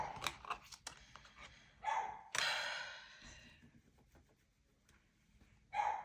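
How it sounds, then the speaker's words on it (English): A dog barks indoors in a few sharp, separate yelps spaced across several seconds, fairly close, mixed with scattered handling noises and a breathy sigh. "Sorry, you guys, the dog."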